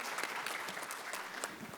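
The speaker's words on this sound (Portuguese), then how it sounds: "aplausos aqui para o Sérgio" An audience applauds for a speaker at a solar energy conference panel in Brazil, a brief burst of dense crowd clapping, loud and continuous for under two seconds.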